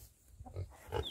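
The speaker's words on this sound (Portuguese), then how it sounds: "Olha os porcos." Pigs on a farm give a couple of short, soft grunts close by in a quiet setting.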